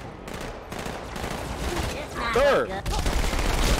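Bursts of gunfire from the video game Halo rattle at mid distance amid a firefight, with a brief shouted voice and swelling alien effects layered over the shots.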